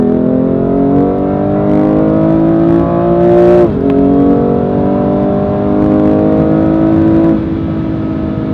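A BMW M2 Competition accelerates hard while overtaking on the road, its engine revving up in a loud, continuous rising drone, with a brief shift dip midway before the pitch climbs again.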